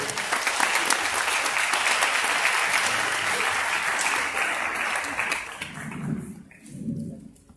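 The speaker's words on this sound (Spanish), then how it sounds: "le pido un fuerte aplauso para nuestro ponente" Audience applause for a guest lecturer at a Spanish-language legal seminar on amparo trials, a dense steady clapping that fades out near the end, followed by someone speaking briefly.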